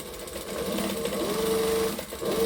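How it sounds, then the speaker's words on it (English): A sewing machine runs steadily, basting fabric pieces together within the seam allowance, with a continuous close mechanical whir and rapid needle chatter. "And we're just going to baste these together."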